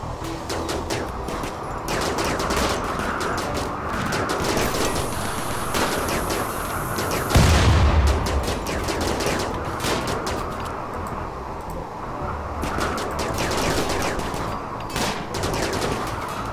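Sustained gunfire in a RimWorld combat on an ice sheet, dense crackling bursts of shots rolling on steadily for many seconds, with a brief tonal whine and thump midway.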